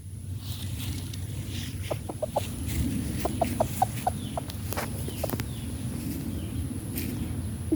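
Chickens cluck in a loose, irregular series of short calls, several birds close by, over a steady low background rumble with no talking.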